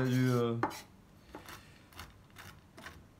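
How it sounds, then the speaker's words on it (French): A knife coarsely chopping pistachios on a board, a handful of sharp close taps spaced about half a second apart after a brief tonal hum at the start, no voices. "donc avec le couteau, je vais les émincer en gros"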